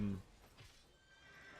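Horse whinny in a video game, a short loud neigh at the start that fades quickly, followed by faint hoof clops and quiet background sound.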